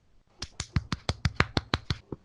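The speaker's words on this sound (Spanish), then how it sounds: "puede agregar unos aplausos de fondo" Applause effect added to a live talk show, a quick run of about a dozen sharp, close hand claps in brisk, fairly even rhythm, starting after a brief quiet moment.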